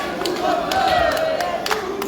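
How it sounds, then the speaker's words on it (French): Passers-by applaud street protesters with light, scattered clapping at a distance, sharp taps sitting over steady street noise and a low tonal hum. "Des passants, beaucoup de gens qui applaudissent"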